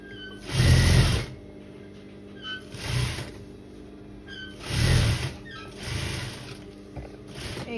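A sewing machine stitches fabric while setting a paan-shaped (betel-leaf) neckline, running in five separate bursts of about a second each with short pauses between them, close and moderately loud.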